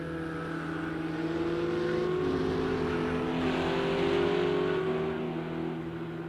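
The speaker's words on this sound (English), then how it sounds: "But we can get some lovely engine noises." Race car engines drone and rev at Sonoma Raceway in a sim racing game, a loud sustained tonal hum that rises and falls, with faint talk underneath.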